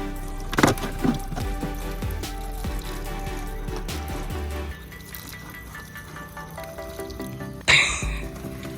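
Water is sprinkled and poured over dry flower seedling trays on a farm, splashing and trickling up close in uneven bursts, with a louder splash near the end.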